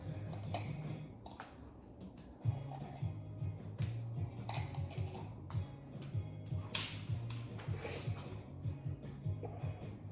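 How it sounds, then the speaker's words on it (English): Vegetables being chopped on a cutting board for a Creole gumbo, a steady run of quick knife taps close by over a low background hum, with no talking. "I can just be chopping my vegetables"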